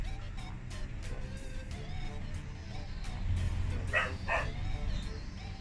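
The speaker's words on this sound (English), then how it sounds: "my dog's barking" A dog barks a couple of times in quick succession, somewhat distant, over a steady outdoor background hum at dusk.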